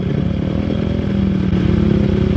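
A motorcycle engine runs loud and close in a steady, throbbing idle on a road near an exit, with a slight rise in revs toward the end.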